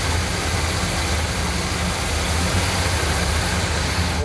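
A 1971 Chevy K10 pickup engine runs rough, a steady close, loud low rumble with continuous mechanical vibration and no voices.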